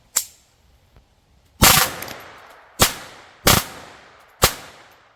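A Taurus TX22 pistol with an FRT trigger fires: one shot, a long pause, then four sharp reports, some in quick pairs, loud and close, each with a short ringing decay.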